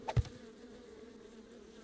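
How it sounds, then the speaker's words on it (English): Bees swarm and chase the player in the video game 7 Days to Die, producing a steady insect buzz behind two sharp game hits near the start, with no speech. "These bees are messing us up."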